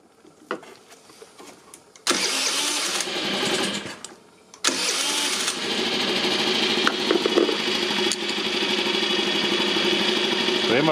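A Kymco Super8 4T scooter engine runs at a low idle with the air filter off, a close buzzing drone that starts and cuts out before settling steady, with someone talking in between.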